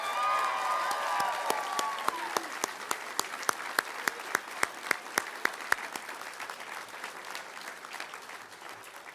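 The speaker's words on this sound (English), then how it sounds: "Let's give them a round of applause" A crowd at a senate campaign speech applauds the speaker's family, dense clapping that starts full and thins into a few sharp, evenly spaced claps before fading into quieter room murmur, with faint voices beneath.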